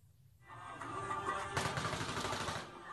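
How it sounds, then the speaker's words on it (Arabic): Gunfire at a political rally during a motorcade in Wazirabad, Punjab, Pakistan: a quiet start, then a rapid burst of shots with a sharp crack after the first second, continuing amid crowd noise. "إطلاق نار يستهدف عمران خان رئيس الوزراء السابق"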